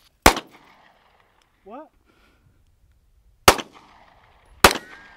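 Three sharp, loud gunshots fired at a target on a shooting range: one shot early, then two more a few seconds apart near the end. A person speaks briefly between the first and second shots.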